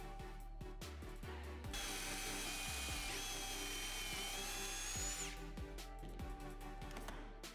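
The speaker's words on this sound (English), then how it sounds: "I drilled 3/4-inch pocket holes along the edges of the short pieces in order to assemble the bookshelf box." A power drill bores 3/4-inch pocket holes into the edges of short wooden bookshelf pieces, one sustained whirring burst of a few seconds amid scattered knocks and tapping.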